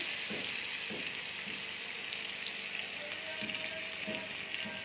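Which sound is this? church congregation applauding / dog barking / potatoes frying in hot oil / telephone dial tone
potatoes frying in hot oil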